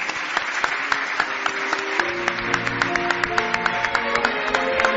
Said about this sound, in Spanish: Un aplauso, por favor, para Joaquín de Diego.